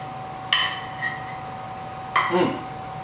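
A fork clinks against a plate of garlic shrimp alfredo in a home kitchen, with a few bright metallic taps spaced apart, close and clear over a steady faint hum.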